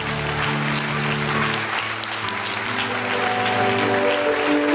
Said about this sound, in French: Je te donne l'occasion d'acclamer à 3.